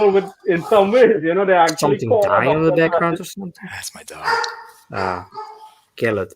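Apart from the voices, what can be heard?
dog barking in the background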